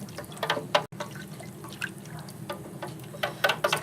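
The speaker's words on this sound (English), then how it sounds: "Just going to give that a quick little whisk, mixing that" A whisk taps and clicks quickly in a bowl of marinade for salmon collars, giving light irregular strikes and liquid sloshes. The sounds are close but fairly quiet.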